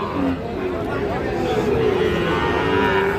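A cow moos in a long low call at a busy cattle market where Sahiwal bull calves are sold, with crowd chatter and voices underneath throughout.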